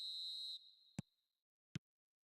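A referee's whistle in eFootball 2026 starts the match with one sustained, shrill blast that cuts off, followed by two isolated soft thumps in near silence.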